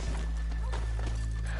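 Horse hooves clop unevenly in the Red Dead Redemption 2 video game, soft and moderately close, over a steady low droning hum.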